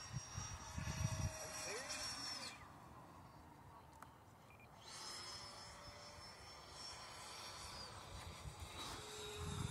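A Freewing Mirage 2000 80mm electric ducted-fan RC jet flies overhead, its high whining roar swelling and fading as it passes, distant at times and louder at others, with voices talking in between.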